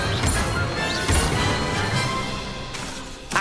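Spell effect from a Harry Potter magic video game, a dense continuous magical whoosh and crash with layered bursts throughout, ending in a sharp impact.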